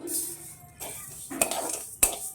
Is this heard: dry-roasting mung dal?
yes